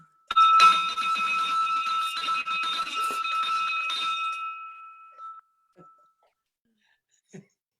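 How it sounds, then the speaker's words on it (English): A ceremonial Virgin bell rung at an online community welcome ritual, a bright sustained ringing clangor for about four seconds that fades into silence, followed by a couple of faint stray knocks. "And I would like to ring that Virgin bell since we're all virtual PSG virgins."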